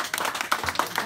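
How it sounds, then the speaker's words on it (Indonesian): Small community group clapping at a beach village gathering, a short burst of scattered, uneven hand claps close by, lasting about a second. "kalian teman-teman, tepuk tangan"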